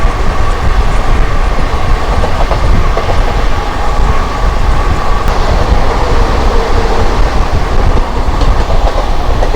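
The Saraighat Express running between Howrah and Guwahati near Bally, loud continuous rumble with rhythmic clickety-clack of wheels over rail joints, heard close from on board, with no talking.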